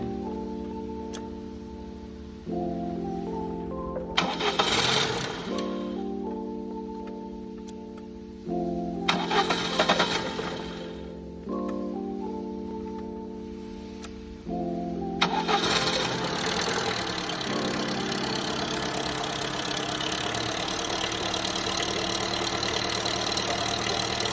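Lada Niva VAZ 21213 engine with a newly fitted exhaust pipe, cranked by the starter several times in rhythmic whirring bursts before catching and settling into a steady, loud idle, heard close with no talking.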